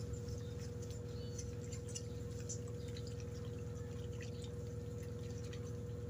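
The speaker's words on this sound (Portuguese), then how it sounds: "Vamos mexer." Homemade liquid soap, made from bar soap dissolving in water, is stirred steadily, giving soft, rhythmic ticking and sloshing over a constant low hum, with no talking.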